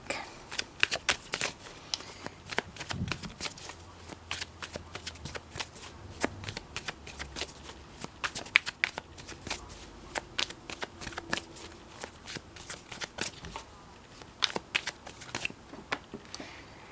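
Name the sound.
shuffling a tarot card deck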